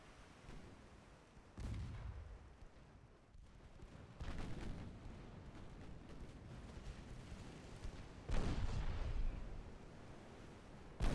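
Naval guns of a 1913-era French fleet firing in the game Ultimate Admiral Dreadnoughts, three heavy booming salvos spaced a few seconds apart, each with a rolling rumble, over a low steady background.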